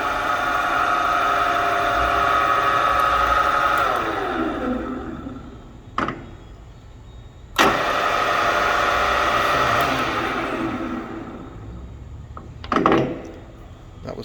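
An Ibarmia multi-spindle gear head drill runs with a steady geared whine and hum that winds down and shifts speed, broken by a few sharp mechanical clunks, with no voices.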